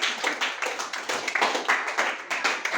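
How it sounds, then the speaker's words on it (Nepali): Schoolchildren clap together for a classmate who built a model house for a school project, a close, uneven flurry of hand claps with a loose rhythmic pulse. "ल भाइको लागि एकचोटि जोरदार ताली बजाइदेऊ त सबले"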